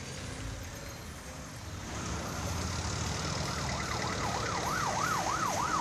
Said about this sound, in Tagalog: madungog na ang wangwang sa police patrol